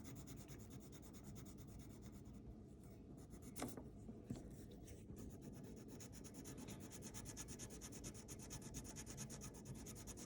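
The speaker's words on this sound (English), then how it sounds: "And then I'm going to color going up and down." Crayon or marker coloring in pink on paper makes a soft scratchy rubbing, faint and close, continuing steadily with a couple of small taps.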